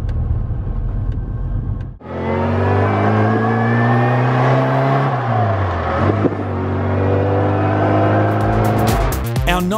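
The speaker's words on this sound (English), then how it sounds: "First drive, Supercharged Mini." Supercharged Mini running on a 98-octane fuel tune, its engine starting up and revving hard through the gears, loud and close, with a steady rising and falling drone and no talk.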